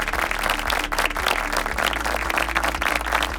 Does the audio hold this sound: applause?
yes